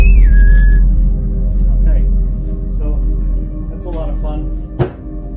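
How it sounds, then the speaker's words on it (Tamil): A person whistles one short, clear note that slides downward at the start, followed by spoken voices and a few light handling noises. "So he doesn't like it when we whistle."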